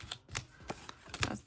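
A deck of cards shuffled by hand, a quick run of crisp riffling snaps and flutters close by, each burst sharp and papery.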